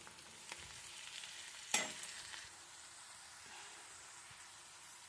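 Onions cook with salt in a pan for mango chitranna, with a quiet steady sizzle and a sharp spoon scrape and stir near the middle, then a soft fainter scrape near the end; nobody talks.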